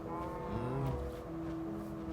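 Sheep bleat in the game Minecraft, a few wavering, nasal calls layered over steady game background sound, moderately loud and continuous.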